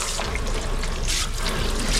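Running water trickles and splashes steadily as a container that held salted sockeye salmon is washed out, close and continuous without talk.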